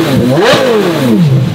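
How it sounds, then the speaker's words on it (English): A supercar engine fitted with a new exhaust revs hard up and back down, one loud close sweep rising to a peak and falling off again, with a crisp, refined race-car tone and no voices. "It sounds like a refined race car now."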